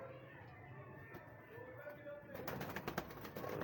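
A male and female pigeon pair coo softly in a coop, with low drawn-out murmurs under a man's speech and a burst of rustling toward the end.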